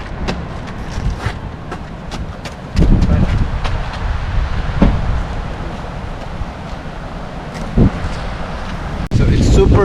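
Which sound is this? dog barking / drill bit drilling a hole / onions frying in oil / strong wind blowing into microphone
strong wind blowing into microphone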